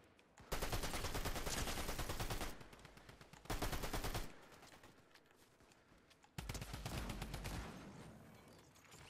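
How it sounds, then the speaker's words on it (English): Video game gunfire in bursts of rapid automatic shots, three loud close volleys separated by short quieter gaps, with no talk over them. "Oh, they're shooting me already. Why is this guy shooting me?"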